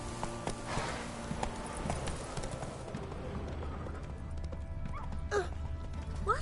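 Roach, the horse in The Witcher 3, gallops in a quick, even clip-clop of hooves under game ambience, with a brief whinny-like cry and faint voices near the end.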